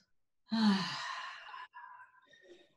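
A slow, deep breath drawn high into the upper chest, lifting the ribcage, as a breathing exercise: one long airy inhale followed by a softer, quieter breath out, close and alone with no talking.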